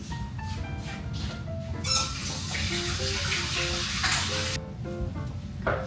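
Tap water runs steadily in a home kitchen while hands are washed during cookie baking, a continuous splashing hiss with melodic tones faintly underneath.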